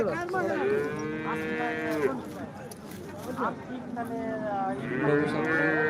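Several cattle moo loudly and repeatedly at the Modnimb cattle market, long drawn-out calls overlapping one another, with a busy crowd murmur underneath.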